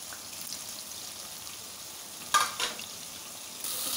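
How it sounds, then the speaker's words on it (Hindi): Taro leaf (arvi) rolls frying in hot oil for a curry, a soft, steady sizzle with a couple of louder stirring clatters in the middle and the frying growing slightly louder at the end. "तो अब हम फ्राई कर रहे हैं"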